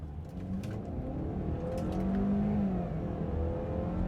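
A 2015 Ford Edge Titanium AWD accelerates hard. The engine note rises and strengthens over a few seconds, heard from inside the car at close range with no talking.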